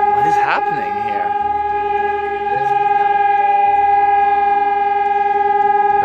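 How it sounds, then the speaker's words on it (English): A loud, steady air raid siren in Vianden, Luxembourg, drones on in a sustained wailing tone, filling the scene without pause. "What is that noise? It's almost like an air raid siren."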